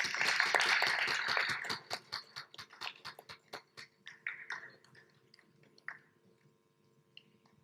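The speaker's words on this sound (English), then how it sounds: "Round of applause, please." Audience applause at a panel discussion on financing in Africa, a burst of dense clapping that thins into scattered separate claps and fades out over several seconds, with no talking.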